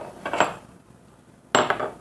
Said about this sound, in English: Some people like to use a hammer,